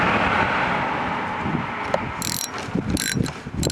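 A ratchet with a 10mm socket loosens a Toyota battery cable terminal, giving a close, quick clicking ratchet whir in short bursts.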